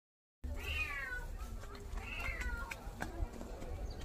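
A cat trapped down a well meows plaintively, two or three drawn-out cries echoing up from below amid faint rustling and background noise.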